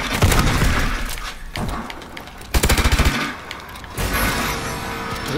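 Gunfire in Call of Duty: Advanced Warfare Exo Survival, loud bursts of automatic fire in short rapid volleys with sharp impacts, close and dense, separated by brief lulls.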